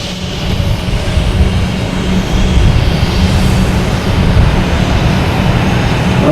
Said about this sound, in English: we have a Delta taking off here, heading to Detroit, an A321